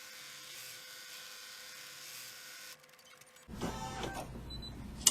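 A computerized embroidery machine stitching fabric applique, a quiet steady mechanical whir that stops and gives way to a rougher, louder rattling run.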